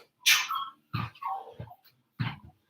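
A dog barks three times, sharp and fairly close, with short pauses between each bark.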